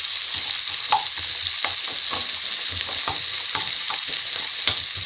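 Chopped onion fries over low to medium heat, giving a steady soft sizzle with repeated scraping clicks from stirring at an irregular rhythm.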